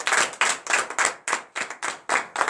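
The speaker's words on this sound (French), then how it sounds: "Donnez l'acclamation à notre Seigneur Jésus." Congregation at a morning prayer service in Comè, Benin clapping in a steady, lively rhythm, the claps close and loud, running continuously in short bursts with no talking.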